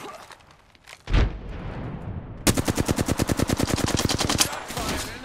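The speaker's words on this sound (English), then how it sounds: "Shot fired, and they're hitting me." Automatic weapon fire from Apex Legends gameplay, a sharp burst followed by a rapid, loud, evenly spaced stream of shots lasting several seconds.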